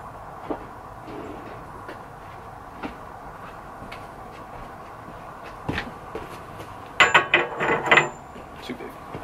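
Socket wrench ratcheting on a bolt during triple-clamp assembly work on a Kawasaki KZ400 motorcycle: scattered faint clicks, then a short, loud burst of rapid ratcheting near the end.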